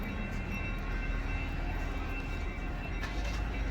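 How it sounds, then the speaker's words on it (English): A passing train rumbles steadily at moderate distance, a continuous low roar of rail cars on an outdoor street with no talking. "I got a train."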